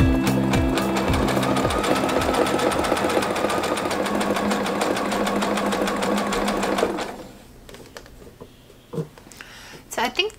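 A sewing machine runs steadily for about seven seconds as it stitches fabric strips onto rope for a jelly roll rope bowl, then stops, leaving a few faint handling clicks.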